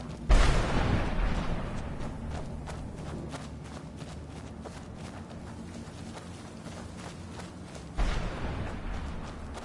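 Thunder booms and rumbles in a storm in the video game Skyrim, with one loud crack at the start and another near the end over a continuous low rumble and faint steps.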